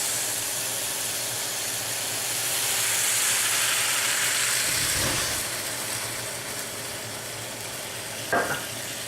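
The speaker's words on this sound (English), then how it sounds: "we're going to flame it with the brandy" Brandy flambéed in a hot pan with brown sugar and vanilla, giving a steady loud sizzle and hiss with a soft whoosh of flame partway through and a short clink near the end.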